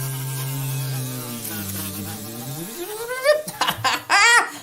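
A voice imitates a bee, holding a long steady buzz that slides upward before breaking into giggles and laughter.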